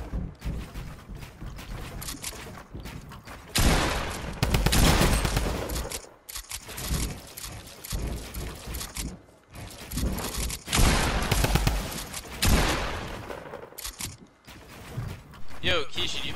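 Shotgun blasts in the video game Fortnite come in heavy bursts between quieter gaps, mixed with mechanical clicks and reload sounds while players talk over the action.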